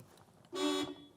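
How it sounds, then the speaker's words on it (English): A Land Cruiser 80 Series horn sounds from the steering wheel in one steady honk of about a third of a second, loud and close, with no talking. "Apparently, it also honks the horn."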